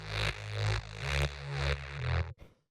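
Techno bass layer run through a respace effect: a deep, pulsing bass pattern with a wide, hissy, washed-out top, looping in steady rhythmic swells before cutting off abruptly.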